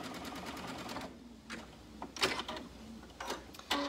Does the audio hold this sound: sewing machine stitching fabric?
yes